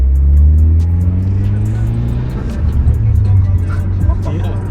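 A Mitsubishi Evo X tuned to about 340 wheel horsepower revs hard at 30 PSI on its stock turbo, giving a loud, close engine drone that rises and falls with a slight stutter, while people talk over it.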